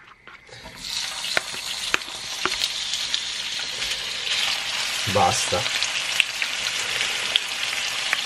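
Bacon frying in a pan for an English breakfast, with a steady bright sizzle and crackle throughout, a few clinks and stirring scrapes, and one brief spoken word.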